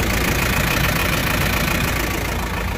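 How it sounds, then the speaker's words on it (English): A Mediterranean gyro products delivery truck idles on a New York City street, its engine a steady loud close hum and knocking rattle running unbroken, with no talk. "Over here, the engine running."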